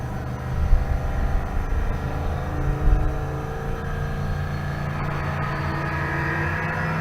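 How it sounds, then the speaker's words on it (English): Drag racing at Pueblo, Colorado, with a 340 Duster A-body Mopar and a square body Chevy launching side by side, their engines a steady loud rumble with a couple of revving surges, heard from the stands without talk. "How about a 340 Duster, another A-body Mopar, and a square body Chevy in the left lane."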